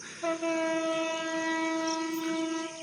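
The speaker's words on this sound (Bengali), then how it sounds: "ট্রেন দিল আওয়াজ কেউ শুনতে পারছেন অবশ্যই শোনা গেছে ট্রেন আসতেছে" The Benapole Express train's horn blows one long, steady blast as it approaches Kotchandpur station, loud and fairly close, sustained for nearly three seconds with no talk over it.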